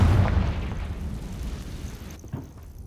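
Confringo spell explosion in the video game Hogwarts Legacy, a deep booming blast that hits loud at once and rumbles away over a couple of seconds, with a small crackle near the end.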